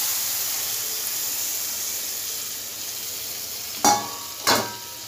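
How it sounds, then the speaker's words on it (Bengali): Mutton kosha sizzling and being stirred in a pan, a steady frying hiss close by, with two sharp scraping clatters of the spoon near the end; no talking. "একটু নাড়াবো, একটু জলটা দিয়ে দিই, মাংসের জলটা"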